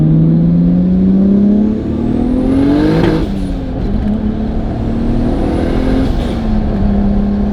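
A Honda S2000 with a widebody kit drives and accelerates hard. Its engine drones loud and close, with the pitch climbing through two rising sweeps and a brief dip between them.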